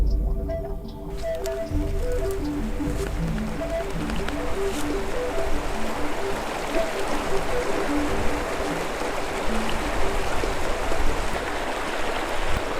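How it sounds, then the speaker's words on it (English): A river running at peak flow near a mountain campsite gives a continuous broadband rush, fairly loud and close, with a faint tonal hum layered underneath in the first seconds. "I wanted to come over here and check out the river"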